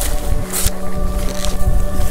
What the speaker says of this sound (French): Là, le vent est assez faible.